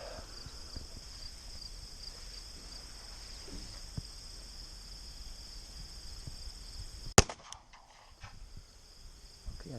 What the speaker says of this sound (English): We're going to try to reuse the same block and put 3 shots in the top third of the block.